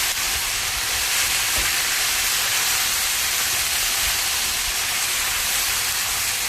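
Seasoned beef chunks frying in a pan for beef stew, cooking until golden brown: a continuous, even sizzle with crackling fills the whole stretch, close and steady, with no talking.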